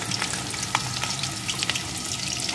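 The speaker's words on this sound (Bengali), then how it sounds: "এখন আলুটাকে একটু ভেজে নেব।" Potato pieces frying in mustard oil, a steady loud sizzle with crackles and light stirring scrapes throughout, no voices.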